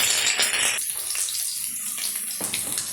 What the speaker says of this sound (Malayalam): 1/2 table spoon ginger garlic paste ഇട്ട് നല്ലപോലെ വഴറ്റുക.